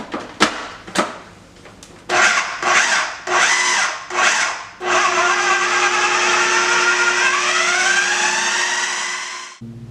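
A food processor blends roasted red pepper sauce seasoned with salt and pepper, giving several short, sharp pulses before a long, loud, continuous whir that cuts off abruptly at the end.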